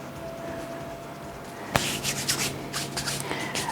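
Hands rub and smush dry chocolate peanut butter dump cake mix around in a baking pan, a quiet stretch giving way to close, repeated scraping and rustling strokes.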